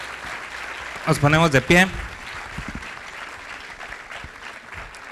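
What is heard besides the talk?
festival audience applause for guests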